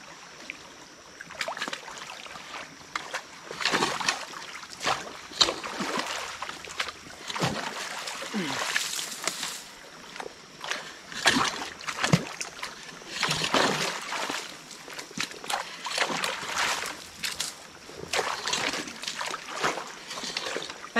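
Water rushes and splashes in an uneven, gurgling flow through a breached beaver dam on a creek, with occasional sloshing bursts nearby and no talking.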